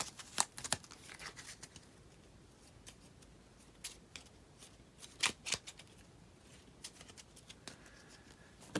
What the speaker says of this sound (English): Here's a weakness. Let's shuffle that in our deck.